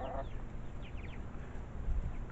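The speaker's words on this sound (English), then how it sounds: "apparently the chickens would like to say hello" Young chickens clucking and cheeping close by in a backyard coop, a few short chirps scattered over a steady low background murmur.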